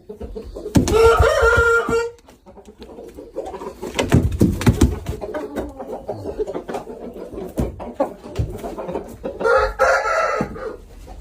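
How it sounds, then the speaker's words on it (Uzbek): Chicks and chickens at a poultry keeper's yard, with bursts of clucking and rooster-like crowing calls near the start and again near the end, busy bird chatter and scuffling in between, fairly loud and close with no talk. "Mana jo'jalar aka-ukalar, tomosha qilinglar jo'jalar."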